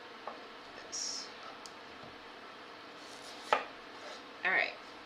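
Knife chopping potato pieces in half on a board in a home kitchen, with a few sparse, sharp cuts and clacks over a quiet room hum.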